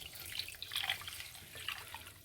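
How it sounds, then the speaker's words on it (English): Water being poured into a cooking pot for orange halwa: a short, close, splashy trickle with gurgling bubbles, brief and moderately quiet. "So guys, we put in 2 cups of water."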